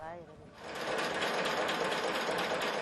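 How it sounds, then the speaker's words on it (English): A generator able to run on diesel or locally grown jatropha plant oil starts up and settles into a steady, buzzing mechanical drone, continuous and fairly close. "The machine is basically a generator that can run not only on diesel but also on the oil from a locally grown plant called jatropha."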